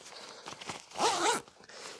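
Zipper on military surplus ORC rain pants zipped in one quick, close rasping pull lasting under half a second, with faint rustling of fabric around it and no talk.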